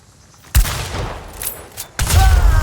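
Shotgun blasts in a first-person shooter video game: two loud, booming shots about a second and a half apart, each with a rattling tail, sounding close to the player.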